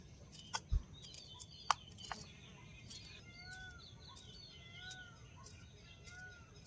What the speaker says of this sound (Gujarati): હવે જો મોરના ટવકા પણ સંભળાવા માંડ્યા છે